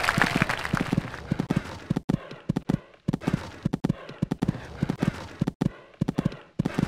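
Horse hooves clip-clopping at a gallop in the Equestriad 2001 show-jumping game, a steady rhythmic run of close, fairly loud beats broken by brief pauses around jumps.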